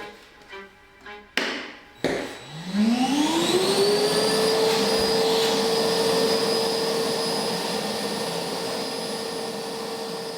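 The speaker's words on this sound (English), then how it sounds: "I find it cool how the dust spins around the Cyclone before falling into the collection bin." A shop vacuum fitted with a cyclone dust separator, starting after a few taps and clunks, whines up to speed, then roars in a steady, loud drone with a high tonal hum.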